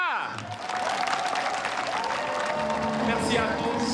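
A crowd at a reconciliation gathering in Côte d'Ivoire breaks into sustained, loud applause that holds steady throughout, with voices and some tonal background sound mixed beneath the clapping.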